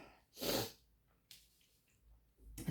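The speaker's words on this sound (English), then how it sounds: "Oh, I'm going to have a sneeze in a minute." One sharp, fairly loud sneeze from an adult with a cold, a single burst followed by quieter breathing and faint rustling.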